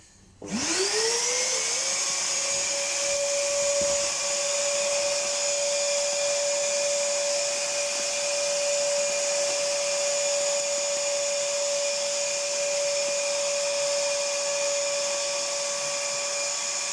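A vacuum cleaner cleans out a Rika Evo Aqua pellet stove. It whirs up within a second, then holds a steady, loud high-pitched whine close by for the rest of the time.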